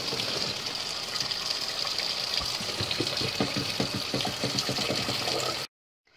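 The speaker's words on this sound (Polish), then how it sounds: "Fasolka jest ugotowana i przelewam ją zimną wodą." Cold running water pours steadily over cooked beans, a continuous rushing splash that cuts off abruptly near the end.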